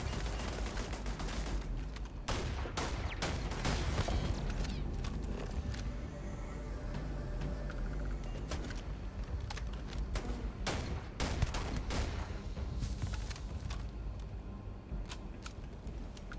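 Turret gunfire in Starfield, dense sustained bursts of shots crackling steadily over a low rumbling backdrop, with sharper clustered volleys spread across the stretch and no voices.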